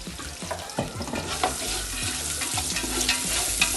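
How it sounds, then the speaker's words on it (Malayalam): Finely chopped onions frying in oil for mandi, a close hissing sizzle mixed with clinks and scrapes of stirring, busy and uneven over a few seconds. "നന്നായി എണ്ണയിൽ പൊരിയട്ടെ."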